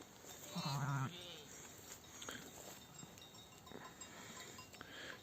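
A single loud bleat from a sheep in a pasture, close by, followed by quieter rustling and faint background noise.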